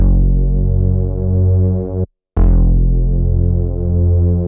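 A heavy, sustained synth bass for a hard trap beat plays two long droning notes with a slow throbbing wobble, cutting out briefly between them, loud and alone.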